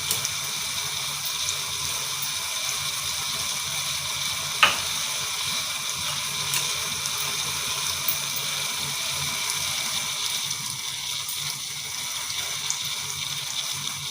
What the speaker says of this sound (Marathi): चहा उकळत आहे.